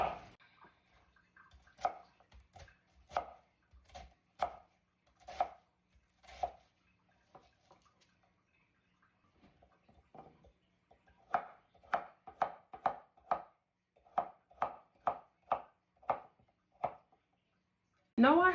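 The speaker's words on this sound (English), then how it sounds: "I'll be chopping mine large after I core it to remove this piece." A knife chops a cored vegetable into large pieces on a cutting board, with distinct sharp thuds falling in irregular clusters and short pauses, close and moderately loud, and brief speech faintly between the cuts.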